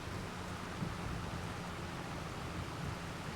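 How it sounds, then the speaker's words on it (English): Soft, steady hiss of rainfall in the video game Farming Simulator 25, even and continuous, heard faintly with no other sounds. "I hear the rain."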